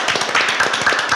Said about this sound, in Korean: 미리 박수를 받도록 하겠습니다